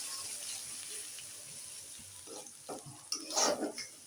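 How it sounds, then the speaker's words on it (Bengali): Onion paste goes into a frying pan and is stirred, giving faint soft sizzling and quiet scraping, with a few louder clinks of the spoon near the end. "তারপরে দিব একটু পেঁয়াজ বাটা।"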